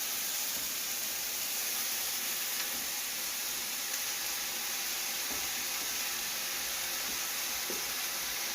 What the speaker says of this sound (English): Now we're going to add our peaches to the pan. Look at that beautiful caramelization going on.